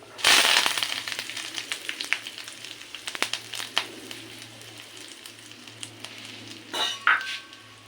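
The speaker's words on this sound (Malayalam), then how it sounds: "കറിവേപ്പില മുളക് വറ്റൽ മുളക് ഇട്ടുകൊടുക്കാം" Curry leaves and dried red chillies hit hot oil with a loud burst of sizzling that settles into a steady frying hiss, with scattered pops and a few clinks of a utensil nearby, no voices.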